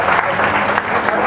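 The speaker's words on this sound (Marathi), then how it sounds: "जोरदार टाळ्या वाजवून स्वागत करा." An audience at a stage performance gives steady, dense applause welcoming a singer, a continuous clapping wash with a few voices underneath.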